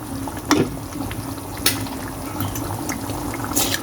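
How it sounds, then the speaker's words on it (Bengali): Lentils tipped into a pot of fried spices for a mixed dal with fish head, giving a low, steady bubbling sizzle with a few sharp clinks of a utensil. "মশলা ভাজার পর আমি ডালটা দিয়ে দিয়েছি"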